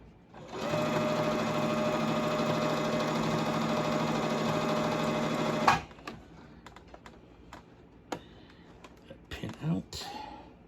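A sewing machine stitches a crash bag in a steady, loud mechanical run for about five seconds, then stops, followed by scattered handling clicks and taps.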